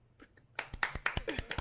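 Scattered claps and hand taps from a comedy club audience greeting a comedian taking the stage at a Kill Tony–style open mic, irregular and close, building over a second or so without talk.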